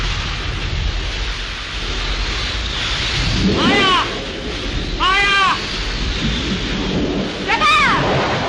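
A thunderstorm in a 1937 Hindi film: steady rain hisses throughout while rolling thunder rumbles in, with sharp crackling peaks breaking out three times in close succession over a low windy roar.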